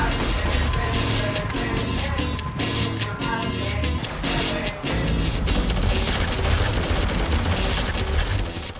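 Gunfire in a Shadowgun Legends PvP match, with rapid bursts of shots, crashes and game effects packed densely over a busy, loud mix.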